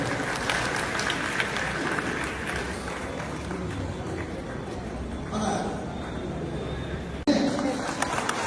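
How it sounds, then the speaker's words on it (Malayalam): Audience at a parish gathering in Kayamkulam Kadisha Cathedral claps to welcome two elderly parishioners inaugurating St. Joseph Fellowship, a steady broadband applause lasting the whole stretch with crowd murmur beneath. "അവരെ കൈയടിച്ച് നമുക്ക് സ്വാഗതം ചെയ്തു"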